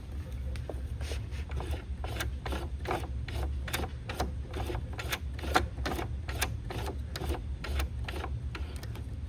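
A sewing machine hand-walked slowly through bias tape on a needlepoint canvas, giving a steady series of light mechanical clicks and ticks over a low background hum, close and even in rhythm.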